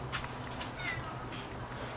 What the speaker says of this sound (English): so I don't know why she's meowing